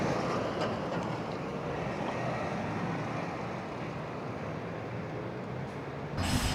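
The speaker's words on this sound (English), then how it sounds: "They have trams like in Lisbon." A street tram rumbles past with a broad, steady roar of wheels and motor that holds for several seconds, then shifts abruptly near the end.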